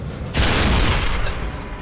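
A German Sturmgeschütz assault gun fires its 75 mm main gun in a Baltic tank battle. A sudden loud boom is followed by a long rumbling roar and crackle that dies away slowly, with no voices.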